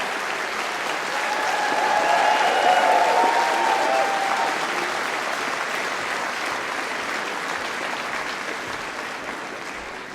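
A large hall of delegates at a party conference breaks into sustained applause, swelling to a peak after a couple of seconds and then holding as a steady wash of clapping with some cheering voices mixed in.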